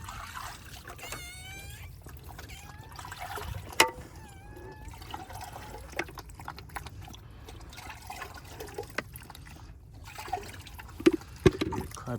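Water is poured for a dog that has just given birth to puppies, giving a faint trickling and splashing of liquid over a low outdoor background, with scattered knocks and a few brief squeaks.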